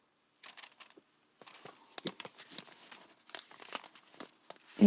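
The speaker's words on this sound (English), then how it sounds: "Oh, I love the sound of this paper." Old French paper items handled up close: stiff sheets crinkle and rustle in quick bursts after a short quiet start, with no talking.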